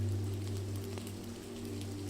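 Rain falls steadily as a soft, continuous patter over a low steady hum, indoors by a fire on a stormy day.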